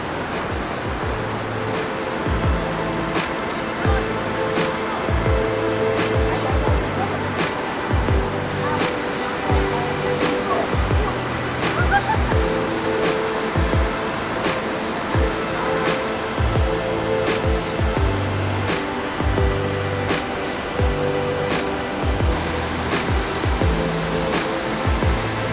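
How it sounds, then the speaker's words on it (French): The Skradinski Buk waterfall in Croatia's Krka National Park produces a constant, broad roar of falling water, steady and full throughout, with faint sounds of people and movement nearby. "J'aperçois la cascade principale de Skradinski Buk."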